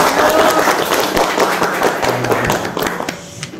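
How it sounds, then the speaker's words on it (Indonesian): An audience applauds the participants at the close of a talk show session with a dense, loud burst of many hands clapping that runs continuously and tapers slightly at the end. "Boleh tepuk tangan kasih buat kita semua ya"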